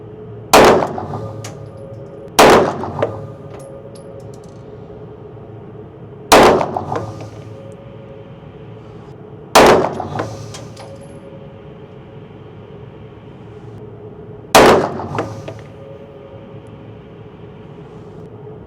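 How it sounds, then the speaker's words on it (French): Pistol fired at targets at 25 metres, five sharp, loud single shots spaced a few seconds apart, each with a short ringing tail, over faint background noise. "Allez, poussons maintenant notre tir à 25 mètres."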